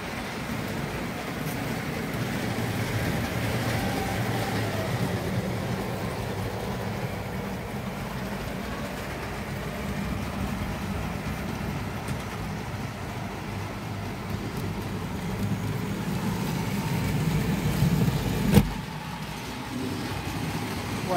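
Tri-ang model train running along its track, a steady low rumbling whirr that continues throughout with a slight rise and a sharp click near the end, with faint background talk.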